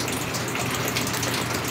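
Water poured steadily into a garden hose, a continuous close gushing rush with no pauses, loud and alone.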